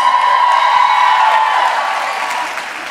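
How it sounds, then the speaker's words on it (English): Audience at a teen dance competition national finals awards announcement bursts into loud, sustained applause with cheering and whoops; dense continuous clapping holds steady, easing slightly toward the end. "Give the top 40 teens a nice big round of applause."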